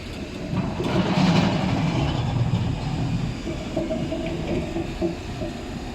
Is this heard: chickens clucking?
no